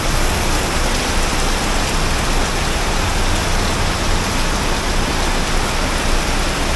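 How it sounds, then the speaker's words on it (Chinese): Steady rain falls in Malacca, a dense, even hiss of drops that stays loud and unbroken throughout, with no talking. "哎呀，下雨天啦"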